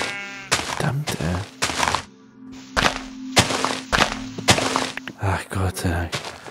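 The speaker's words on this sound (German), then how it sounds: "Das räudige Schaf hier." A sheep bleats in Minecraft, with short, close bleats mixed with repeated dull game thumps and hits in an irregular rhythm.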